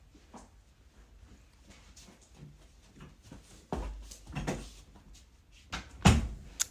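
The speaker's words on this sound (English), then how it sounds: "Close this door." A door thuds shut with a sharp bang near the end, after a few quieter knocks and household shuffling, with faint voices in the background.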